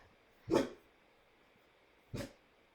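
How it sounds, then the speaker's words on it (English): A dog barks twice at a distance, two short, separate barks about a second and a half apart against a quiet background. "Excuse my dog in the background there."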